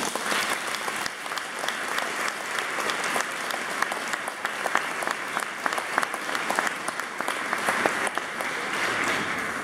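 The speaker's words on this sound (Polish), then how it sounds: "Należą dla nich się też oklaski." A church congregation claps in steady, dense applause for altar servers, a full hall of hands sustained from start to finish with no pauses.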